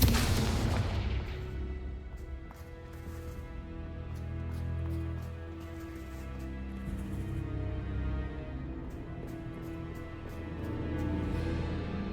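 A Confringo blasting spell erupts in Hogwarts Legacy: a loud, close boom at the onset rolls into a long rumbling decay under continuing game ambience.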